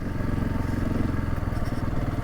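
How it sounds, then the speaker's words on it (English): A dirt bike ridden with a passenger on the back through trails in Papineau-Labelle puts out a loud, close, continuous engine rumble with a rapid pulsing beat, alone without talk. "I've got Ivan on the back, and we are heading back to pick up the mighty Honda CRF250."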